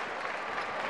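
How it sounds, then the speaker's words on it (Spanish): Players on the Copa Ourense bench applaud during a basketball cup final, a dense, even burst of clapping that lasts under a second. "Aplauden no banco de Copa Ourense esa última defensa do seu equipo"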